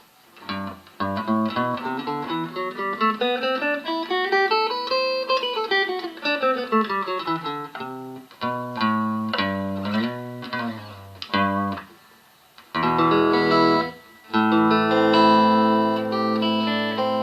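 An Epiphone SG on its bridge pickup split to single coil, volume on 10, plays through a Vox Pathfinder 15R with reverb engaged: a loud run of sustained chords and ringing arpeggios with a reverb tail, no talking.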